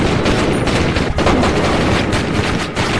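Film gunfire from police shooting down a man, a dense, continuous crackle of shots filling the whole stretch at loud, close level with no clear gaps.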